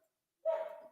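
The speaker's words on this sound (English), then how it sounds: "The dog's barking." A single dog bark, short and fairly close, rising suddenly after near silence and trailing off, heard alone in a quiet indoor room.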